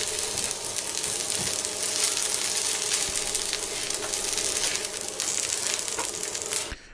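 Onions and peppers sizzle loudly and steadily in a hot pan for Christmas cooking, a dense continuous frying hiss that cuts off abruptly near the end.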